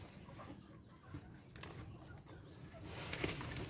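Chickens at a Filipino backyard chicken farm cluck and call faintly in a quiet afternoon setting, with soft scattered bird sounds over low background noise.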